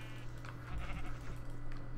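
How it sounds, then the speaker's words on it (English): Sheep bleating in Minecraft, a soft game bleat over a steady background hum with light clicking, heard alone with no voice. "I'm focusing on like killing the sheep"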